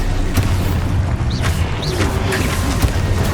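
Spell blasts in the Hogwarts Legacy video game, a dense layer of booming bursts and rumbling impacts with brief whooshing magical flourishes over a constant low game soundtrack.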